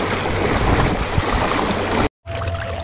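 A boat motoring through water, with a steady engine hum and rushing, splashing wash, broken by a brief dropout near the end.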